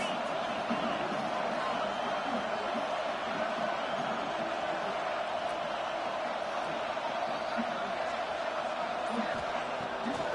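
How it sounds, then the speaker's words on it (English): Football stadium crowd at a TCU game roaring steadily against the opposing offense, a dense, continuous wall of noise from a large crowd with no breaks. "This crowd trying to make life miserable for this offense."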